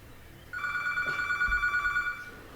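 A telephone rings with one sustained electronic trill lasting about a second and a half, clear against a quiet room.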